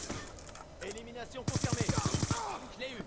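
Rapid burst of automatic gunfire from an online Black Ops 2 match, about a dozen sharp evenly spaced shots in the middle of the clip, loud and close, with voice chatter and game sounds before and after.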